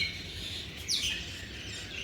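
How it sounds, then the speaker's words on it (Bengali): A single quick bird chirp rises out of a quiet outdoor hush, with faint distant twittering around it. "পাখিগুলো কিন্তু ঠিক উঠে যায় ওদের মর্নিং সে ডিউটি থাকে"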